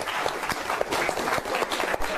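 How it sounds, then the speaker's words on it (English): Audience applause at a live magic show, steady dense clapping at a constant level for the full stretch. "Big round of applause for Bree."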